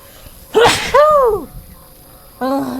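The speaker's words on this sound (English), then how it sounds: "Oh no, I need to sneeze." One sharp, close sneeze bursts out, followed at once by a falling, drawn-out vocal exclamation and, after a short pause, another voiced sound.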